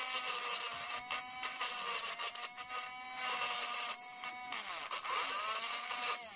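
An electric engraver pen works over white clay with a close, steady, high-pitched motor buzz that stutters and shifts in pitch as it moves, with no talk.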